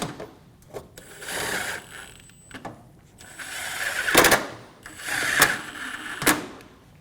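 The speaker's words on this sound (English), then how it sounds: "Install the screws at the top of the bumper." Screws are driven into the top of a 2012-2017 Hyundai Accent front bumper with intermittent ratcheting, clicking and whirring bursts, close by, separated by short pauses and sharp plastic knocks.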